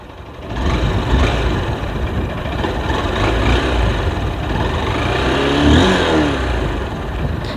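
A 2024 Honda SP 160 motorcycle revs hard through its exhaust, loud and close, swelling and dipping in a rough, sustained roar.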